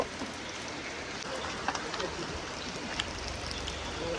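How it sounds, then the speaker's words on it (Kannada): Steady, dense rain hisses across the whole stretch, with scattered louder drops pattering on a surface nearby. "ತುಂಬ ಮಳೆ ಆಗ್ತಾ ಚಂಡಿ ಚಂಡಿ ಫುಲ್ ಚಂಡಿ"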